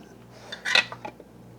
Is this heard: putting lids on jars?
yes